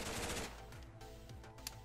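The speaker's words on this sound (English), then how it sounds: "Got an LMG right here, which is really cool." An LMG in Fallout 4 fires a rapid burst of gunshots, dense and continuous for about half a second, then trails off into the echoing tail of the burst.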